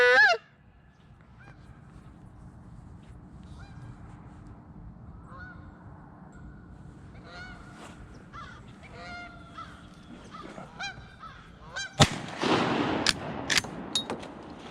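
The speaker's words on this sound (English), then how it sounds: "I think that goose is in there." Canada geese honk in a scattered run of calls over a steady outdoor hush, growing busier until a sharp bang and a loud cluster of overlapping honks and wing noise close the clip.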